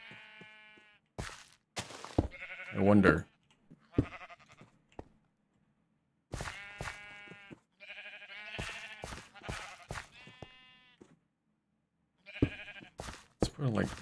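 Sheep bleating in Minecraft, several short wavering bleats popping up at intervals, fairly loud, alongside a man's speech and soft blocky footsteps.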